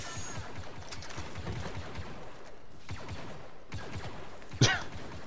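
Blaster fire from a Star Wars Battlefront battle, a steady stream of rapid shots with one sharper crack near the end, heard without speech.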